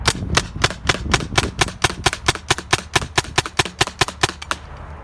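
A custom 468 PTR paintball gun fires about twenty rapid, evenly spaced sharp pops in a steady string, loud and close with no talk.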